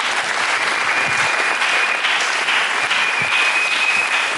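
A church congregation applauds steadily, dense clapping from many hands holding an even level throughout with no voices standing out.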